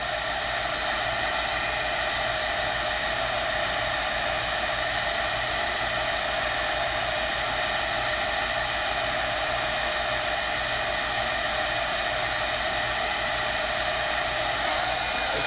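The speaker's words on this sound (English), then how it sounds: "I can take a heat tool and on low, I can just hold it" A heat tool on its low setting blowing to dry alcohol marker ink on Grafix Dura-lar film, a loud, steady, close whooshing roar with a low motor hum that runs unbroken throughout.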